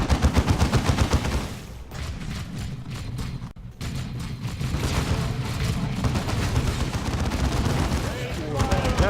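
Bolt rounds rattling nonstop at brood nests in the strategy game Dawn of War 2, with dense rapid gunfire and booming impacts that continue throughout, briefly dipping midway before swelling again.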